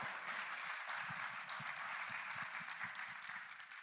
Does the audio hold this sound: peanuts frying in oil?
no